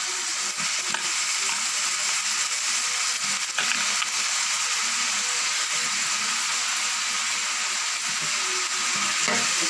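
Eggplant pieces added to onions fry in a pan, a steady broadband sizzle with faint stirring and scraping throughout, close and continuous with no voices.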